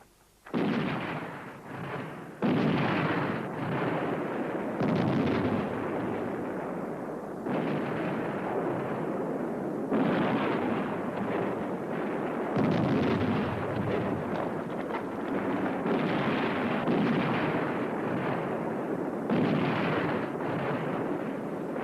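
Artillery barrage in a 1969 war film about the Battle of El Alamein: heavy booming blasts one after another, each roaring and rolling away before the next, loud and relentless for the whole stretch.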